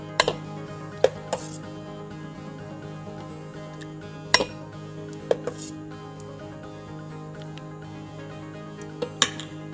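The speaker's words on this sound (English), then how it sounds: "So I'm going to go ahead and spoon some into a bowl." A spoon scraping and clinking against a pot and bowl while serving Instant Pot butternut squash soup, with a handful of sharp, isolated clicks spread over a quiet kitchen hum.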